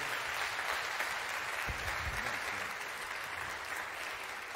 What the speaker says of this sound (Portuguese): Salva de palmas para o nosso Senhor.